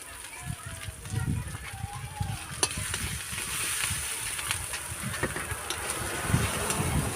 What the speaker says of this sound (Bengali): ভালো করে মশলাটা কষা হলে